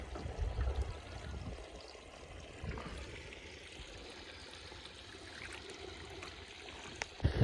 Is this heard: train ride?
no